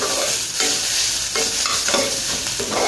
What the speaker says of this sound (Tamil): இப்போது நம்மளுடைய தேங்காய் வந்து கொஞ்சம் ஹீட் ஆகிடுச்சு.